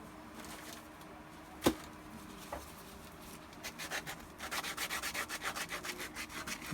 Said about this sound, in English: I'm going to quickly sand it a little.